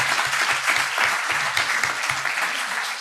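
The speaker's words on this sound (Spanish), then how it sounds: "Un fuerte aplauso para Javier Juárez" An audience applauds a notary after his talk at a conference on wills, inheritances and taxes, a dense, steady wash of many hands clapping for about three seconds, close and continuous.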